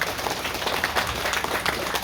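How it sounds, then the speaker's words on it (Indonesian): A crowd at a Red Cross event applauds the chairman, dense continuous clapping from many hands that stays steady and fairly loud throughout. "Tepuk tangan untuk Pak Ketum."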